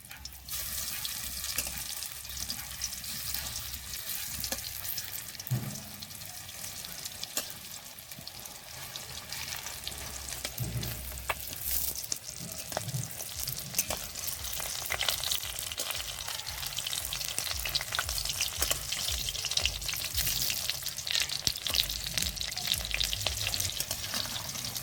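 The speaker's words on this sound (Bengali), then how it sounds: "এবার মাছগুলো একটা একটা করে উল্টে দেব।" Fish frying in hot oil in a kadai for Bengali kadai fish, a steady close sizzle running throughout, with intermittent scraping and clatter as the pieces are flipped one by one; no talking.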